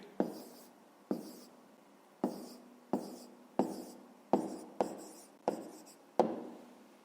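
Close, quiet pen strokes on paper set down a written maths answer, about nine sharp touchdowns each trailing a short scratch, steady and unhurried with no talk.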